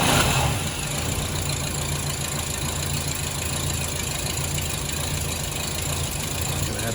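The cold engine of a 1934 LaSalle sedan runs at a steady, loud idle, a dense rumble with a slight peak right at the start.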